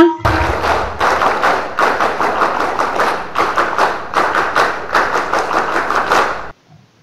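A scout group claps in a steady rhythmic pattern at an installation ceremony, loud and close, with bursts of quick claps repeating for several seconds before stopping abruptly.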